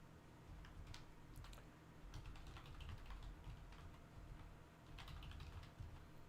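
Typing on a computer keyboard at a PC during a login, heard as irregular bursts of close keystroke clicks over a steady low background hum.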